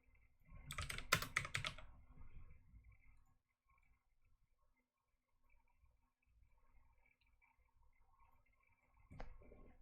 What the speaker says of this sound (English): let's type a number, get playtime